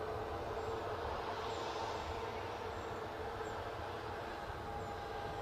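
A departing airliner moving off at Newcastle airport gives a steady, distant engine rumble and roar that holds evenly throughout, with no voices over it.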